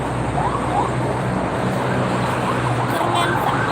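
Ambulance siren wailing among steady traffic on the Cikampek toll road near Jakarta, heard over a constant loud road roar with the siren rising and falling faintly in the mix.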